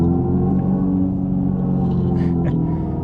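Electric Dodge Charger's artificial track-mode engine sound played through the cabin speakers: a loud, dense, continuous low droning hum with layered tones, steady the whole time.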